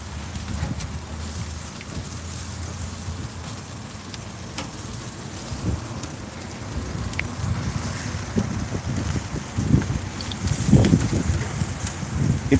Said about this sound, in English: It's a cool and windy day here in South Florida